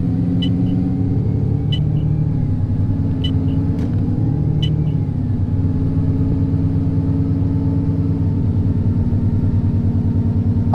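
An Enviro400 double-decker bus in Halloween livery drives through Croydon, its engine giving a steady low rumble with a few faint clicks and a brief rise in pitch around the middle.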